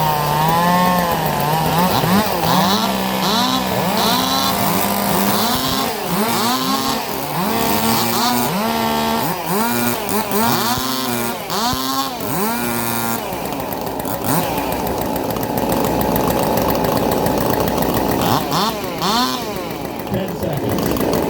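Several chainsaws rev and race together in warm-up before a sawfest timed cutting competition, loud and continuous with rising and falling engine pitch, while a voice talks faintly beneath.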